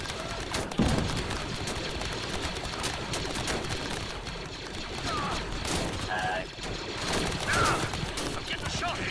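Blaster fire rattles without pause during a Clone Wars base defense against droids in Star Wars: Galaxy at War, a dense, loud barrage of overlapping shots with a voice talking over it.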